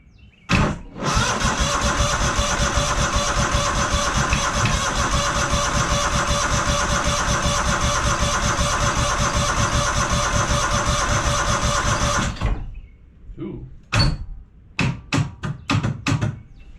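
A junkyard Kohler engine, choked, cranks briefly, then fires and runs loud and steady for about eleven seconds before stopping, followed by a few sharp clunks and knocks.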